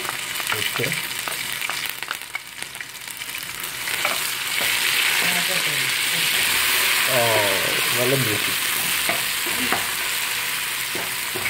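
Ginger and garlic paste fries in hot oil for a Kerala-style mutton curry, a steady loud sizzle with scraping stirs and clinks of the spoon against the pan while someone talks.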